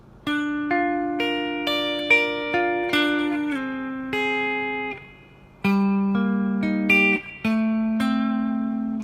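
A clean electric guitar plays a slow melodic riff from a song, single notes and double stops plucked one by one and left to ring, with brief pauses between phrases.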